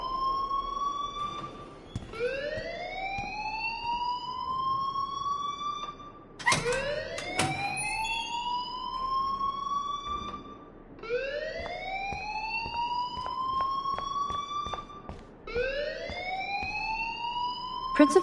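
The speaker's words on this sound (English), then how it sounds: "please turn off that alarm since that's your job" A fire alarm blares in the video game Life is Strange, a loud rising electronic siren whoop repeating about every four seconds, with faint background noise beneath.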